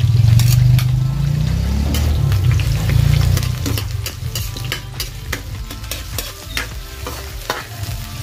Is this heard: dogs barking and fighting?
no